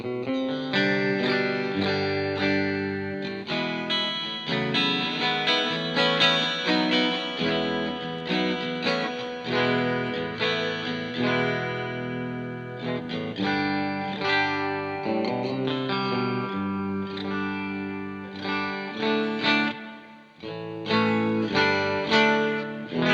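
An electric guitar played through a Hughes & Kettner Nano Spirit of Vintage amp rings out with reverb, strummed chords and melodic lines sustaining in a continuous, fairly loud wash with chorus-like shimmer and no talking.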